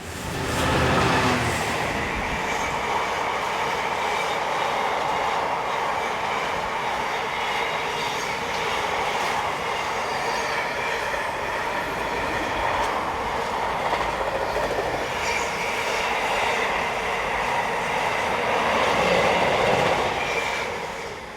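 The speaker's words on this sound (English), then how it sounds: "we see 66079 heading south with train 4L56, the 1315 from Trafford Park to London Gateway" A heavy Class 66 diesel locomotive hauling a container freight train rumbles past steadily and fairly close, with rolling wheel noise and faint clatter from the wagons throughout.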